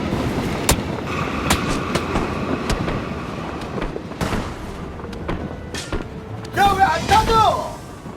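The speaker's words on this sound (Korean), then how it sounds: "기차 한번 타볼까?" A train runs in the snowy Vikendi map of the video game PUBG, with steady rolling clatter, rhythmic clicks and thumps, and a brief metallic wheel squeal near the end; no voices are heard.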